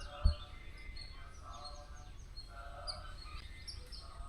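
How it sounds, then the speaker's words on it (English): Early-morning birds chirp faintly in a village setting, scattered short calls over a quiet outdoor background with one low thump near the start. "Lot of birds chirping. This early in the morning."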